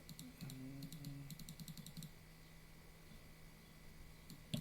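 Keys clatter on a new computer keyboard in quick bursts of typing, quiet and close, with a lull before a final few keystrokes.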